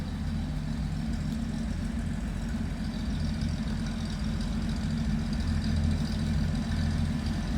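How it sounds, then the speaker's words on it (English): A 1937 Packard Six with a 237-cubic-inch inline six-cylinder engine idles in neutral after a cold start, giving a quiet, steady low rumble that runs evenly throughout with no voices. "Inline 6-cylinder, 237 cubic inches."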